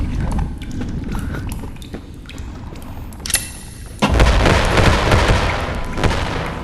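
A grenade blast in the VR game Animal Company: after a stretch of quieter in-game clatter, a sudden loud, broad explosion erupts and lingers as a dense rumble.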